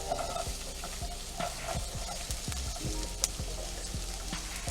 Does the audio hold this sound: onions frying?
yes